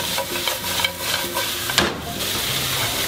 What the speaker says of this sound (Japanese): 玉ねぎ投入で、ぼちぼちいいぐらいなんで、もうざっと炒めていきます